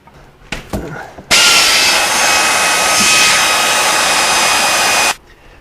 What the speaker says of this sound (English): can't you just watch these bolts coming out all day long like this?